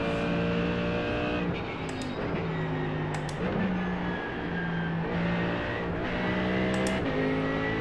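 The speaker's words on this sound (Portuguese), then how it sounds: "Este carro, quando a traseira foge, não há muito a fazer." A Mercedes race car engine in a racing video game drones loudly and continuously, with pitch steps as gears shift and brief bursts of high-pitched screech, and no talk.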